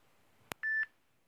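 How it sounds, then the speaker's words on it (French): A single short phone notification beep rings out cleanly in a quiet room, a brief steady electronic tone with a faint click just before it and nothing else around it. "Ça c'est une notification."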